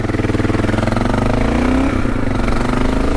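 A motorcycle engine revs up steadily, its throaty, pulsing rumble rising in pitch and staying loud and close throughout, with no talking.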